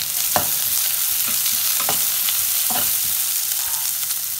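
Chopped onions frying in a pan with garlic, mustard seeds and cumin, a steady close sizzle with a few sharp stirring scrapes at irregular intervals, no talking.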